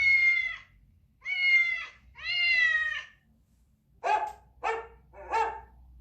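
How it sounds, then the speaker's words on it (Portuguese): A domestic cat gives three long, clear meows, then a dog barks three times in quick, sharp bursts, each animal heard alone and close in quiet surroundings. "Ouça como o miado de um gato, por exemplo, é bem diferente do latido de um cachorro."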